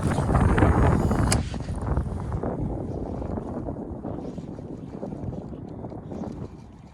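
Wind buffeting the microphone on a windy day while casting from a bass fishing boat, a steady loud rushing roar that eases slightly toward the end.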